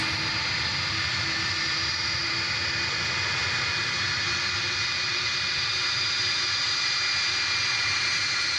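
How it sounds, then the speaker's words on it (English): A UPS cargo plane at DFW Airport, a continuous loud jet engine roar with steady hiss and a sustained whine, unchanging and filling the whole stretch without any speech. "the plane you hear behind us is an arriving UPS flight"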